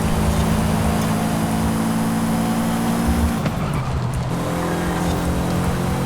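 A Subaru Impreza 22B STI racing in Forza Horizon 5 produces a loud, sustained engine drone with a brief tyre squeal and dip partway through as the car takes a corner, then the engine resumes.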